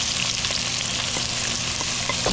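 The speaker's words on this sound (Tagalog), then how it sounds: "Halo-halo ulit hanggang sa maluto ang sibuyas." Onions sizzle and get stirred in a hot pan while chicken adobo is being made, a steady close crackle of frying with light scraping from the stirring and no talking.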